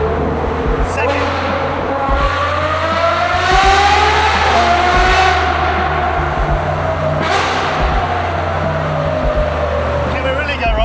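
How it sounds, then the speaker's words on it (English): An Aston Martin Valour engine revs hard inside a tunnel, its loud rising and falling howl echoing off the walls as it downshifts, with brief gear-change dips and a voice talking underneath. "You'll hear how loud this car is."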